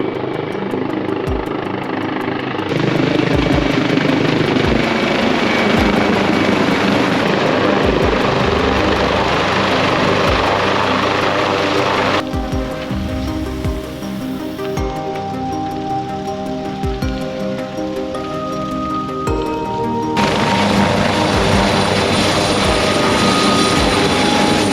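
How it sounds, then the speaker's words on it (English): A helicopter passes overhead at a campsite, its steady rotor and engine drone loud and continuous, with a broad rushing wash that swells and eases over about twenty-five seconds. "When the chopper's here, it's not good."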